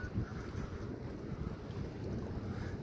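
Steady sea wind buffets the microphone with a low, constant roar, open water and surf faintly beneath, no voices.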